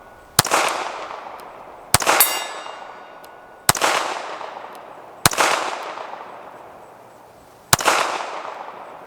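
A Beretta 1934 pistol fires at a 60-yard target: five sharp, loud outdoor shots spaced one to two seconds apart, each trailing off in a ringing echo.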